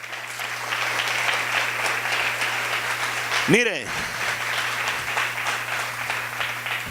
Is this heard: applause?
yes